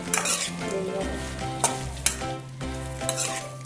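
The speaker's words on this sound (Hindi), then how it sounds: "भिंडियों को मैंने इसका 5 मिनट फ्राई कर लिए" Okra (bhindi) fries in a pan over medium heat, a steady sizzle broken by repeated scraping stirs, with a tonal background hum running underneath.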